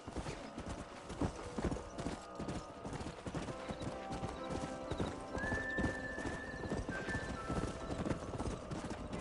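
Horses in the Red Dead Redemption 2 video game: steady clip-clop of hooves with an occasional neigh, busy and continuous throughout, mixed with ambient game sounds.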